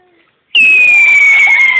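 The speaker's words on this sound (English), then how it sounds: "firework" At a fireworks display in Canvey, a loud firework shrieks upward after a moment of quiet, a piercing sustained whistle sliding slowly downward in pitch.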